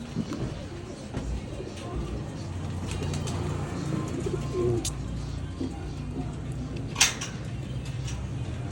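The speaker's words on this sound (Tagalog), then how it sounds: "So sisilipin namin ni Boss X yung ano kalapatids, yung flyer section." Pigeons coo softly inside a fancier's loft in Lubao, Pampanga, a low murmuring bed of calls with faint background voices and a brief sharp knock near the end.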